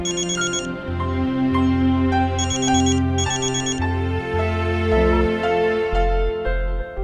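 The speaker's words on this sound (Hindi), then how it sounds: "तुम्हारा फोन बज रहा है, उठा लो।" A mobile phone ringtone plays a steady looping melody with a bass line and bright chiming notes, loud and continuous with no talking over it.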